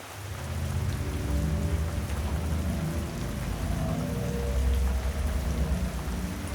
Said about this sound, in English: And all you hear is the rain.